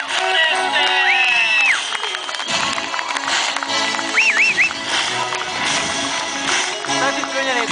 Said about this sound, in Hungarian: Nagy tapsot kérjük szépen a Fehérvár Forestnek!